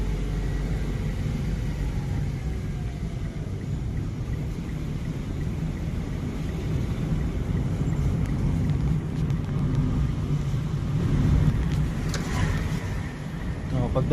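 A manual car's engine drones steadily from inside the cabin during a driving lesson, a low continuous rumble with slight shifts as gears change, while an instructor talks throughout.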